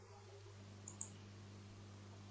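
A computer mouse gives two quick, faint clicks close together under a low steady hum from a Windows 10 PC, with no voices.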